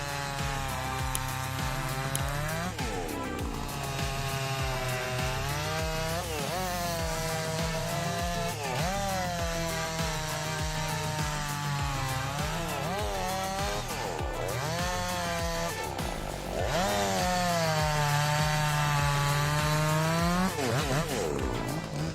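A chainsaw cutting through big timber at a sawmill, its engine droning steadily and loudly throughout, with the pitch dipping and rising as the chain bites into the wood.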